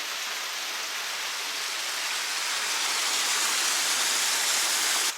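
Water spills steadily down the rock in Old Man's Cave, Hocking Hills, Ohio, a dense, even hiss of falling water that stays constant and fairly loud throughout, without voices.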